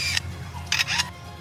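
A bird mimics a camera shutter: a sharp click, then a pause, then two quick mechanical clicks in succession, crisp and close.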